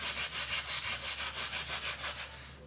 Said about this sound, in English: I'm going against it to kind of fill in all those little dips and valleys in there. Just kind of rubbing it back and forth.